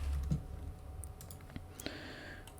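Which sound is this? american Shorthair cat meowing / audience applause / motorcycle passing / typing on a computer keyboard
typing on a computer keyboard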